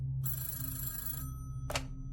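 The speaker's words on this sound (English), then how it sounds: "Phillips's phone rang and he answered it" A telephone gives one long ring with a bright bell tone, then a short second burst after a pause, heard up close with no talking.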